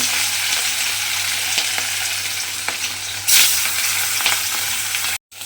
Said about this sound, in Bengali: এবারে মাছগুলো আমি তেলের মধ্যে দিয়ে একটু লাল করে ভেজে নেব।